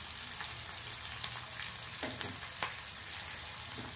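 Large chopped onions frying in a pan for a Tamil coconut dal curry, a steady close sizzle with a few louder crackles and stirring scrapes, no voices.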